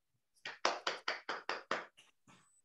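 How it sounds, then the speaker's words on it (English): A child clapping hands, seven crisp, close claps in a quick even rhythm followed by two softer ones, in an otherwise quiet room. "You can give yourself a clap."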